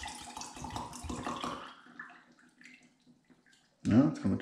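Liquid DMSO poured over 500 grams of propolis, a fluid pour in the first part that thins to faint trickles and then returns as a louder gush near the end; speech is heard alongside.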